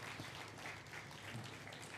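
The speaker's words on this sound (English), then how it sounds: "Can we please clap?" Conference audience applauding a guest of honour, a dense, even wash of many hands clapping, steady and somewhat distant, with no pauses.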